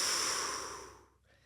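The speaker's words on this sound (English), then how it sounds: "use the sound FR as you're breathing out" A long, breathy exhalation shaped with a soft "fr" fricative, close and hissing, tapering off into near silence after about a second.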